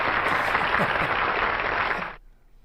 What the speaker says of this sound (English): So you get some more applause there.